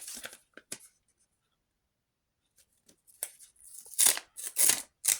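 A paper surprise packet being opened: a few short crinkles, a pause, then louder bursts of rustling and tearing paper close by, with no talk.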